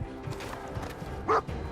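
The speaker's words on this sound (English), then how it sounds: "What do we got here? Super Mutant Dog." A Super Mutant Dog in the video game Fallout 4 lets out a single short, sharp bark that stands out over the quieter ambient game sound.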